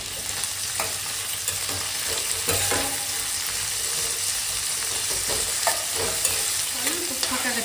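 Onions frying in hot oil in a pan while being stirred, a steady broadband sizzle with occasional scraping stir sounds, close and continuous with no talking.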